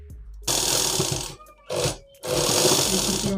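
A sewing machine stitching a bag made from a sack, loud rapid mechanical whirring in three bursts with short pauses between runs.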